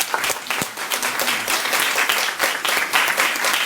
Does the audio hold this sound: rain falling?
no